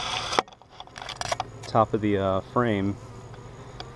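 Honey bees buzz around an open hive during a beekeeping inspection, a steady insect hum running under a person talking close by.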